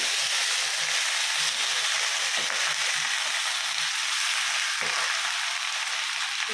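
Mustard seeds and urad dal crackle in hot oil as drumstick leaves go into the pan, a close, steady frying sizzle with faint stirring taps underneath and no talk.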